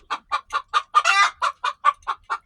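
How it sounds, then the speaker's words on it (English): A hen cackles in a loud, close, steady series of about ten sharp clucks after laying an egg, with one longer drawn-out squawk in the middle. "that's her chicken song. She just laid an egg."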